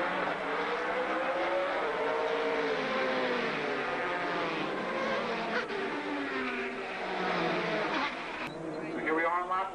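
Sports prototype race cars, a Mercedes and a Jaguar among them, come around the Montreal circuit during a 1990 World Sportscar Championship race, their engines whining and sweeping past in overlapping rising and falling passes beneath continuous commentary.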